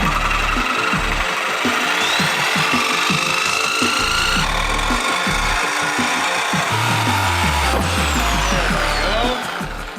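Power tool cutting the exhaust pipe of a BMW G82 M4, a harsh continuous rasping and grinding with rhythmic scraping pulses and a low thump near the end, loud and close.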